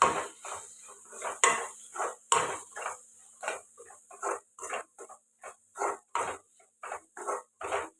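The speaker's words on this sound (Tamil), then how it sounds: "இதெல்லாம் ஒன்றா மிக்ஸ் பண்ணிக்கலாம்" A metal spoon scrapes and clinks against a cooking pan while mixing spices and salt for tomato kuruma, in a steady rhythm of repeated strokes, close and fairly loud, with no talking.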